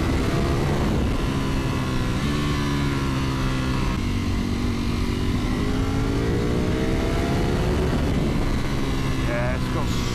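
Ducati Panigale V4S motorcycle with its V4 engine accelerating hard, a steady loud engine roar with rising and falling pitch sweeps as gears change, continuous throughout and close up.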